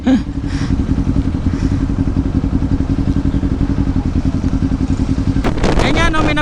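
Loud big-bike exhaust from a motorcycle near a Ninja 500 SE 2024 throbs in a steady rapid pulse, then sharp revving bursts near the end, with voices talking underneath.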